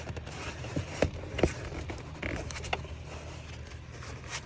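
Bolt cutter biting through a parking brake cable on a 2000 Ford F-250, with a couple of sharp close metallic snaps and creaks over quiet workshop background.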